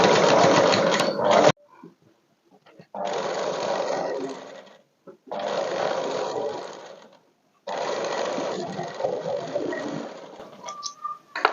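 A sewing machine stitches along folded dress fabric at a side slit, running in three or four steady bursts separated by short pauses, loud and close with no talking.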